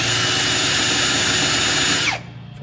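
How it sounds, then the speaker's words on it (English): A power drill whirs steadily against the firewall of a 1941 Chevy coupe, scraping through red oxide primer, then winds down abruptly after about two seconds, close and loud with no talking. "so let me grab a drill"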